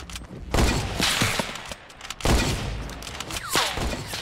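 Gunfire in an online shooter game, two loud bursts of rapid shots with rumbling booms, each lasting over a second, the second burst trailing off into scattered reports.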